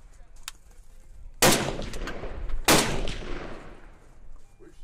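Two loud, sharp gunshots from an AK rifle at an outdoor shooting range, spaced about a second apart, each followed by a decaying echo, with quiet outdoor background between.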